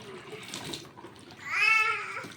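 Raw mangoes being swished and washed by hand in a tub of salt water for village-style pickle, with splashing and sloshing that swells louder midway, plus a brief high squeal over the water.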